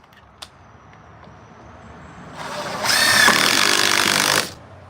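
A power drill drives a screw into a wooden board while building a stool. After a quiet start with a small tap, the motor whine rises loudly, holds for about two seconds, then cuts off.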